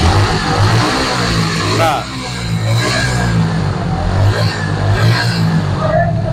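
A second-hand Suzuki Gixxer SF motorcycle with piston trouble held at high throttle, giving a steady, loud engine drone close by while people talk over it.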